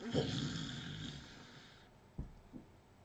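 A man imitates a dog with a brief snorting, growly burst of voice that quickly fades. A couple of soft clicks follow in near silence.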